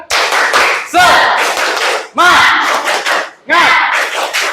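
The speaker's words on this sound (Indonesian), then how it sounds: "Kita bakar semangatnya dulu dengan menggunakan tepuk semangat." A fifth-grade class performs a rhythmic clap-and-shout chant, with three loud bursts of group shouting, each followed by a flurry of claps.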